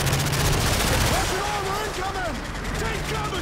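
P90 submachine gun fire in Modern Warfare 3, with rapid bursts crackling over a dense game battle soundscape, loud and close, mixed with shouted voices from the game.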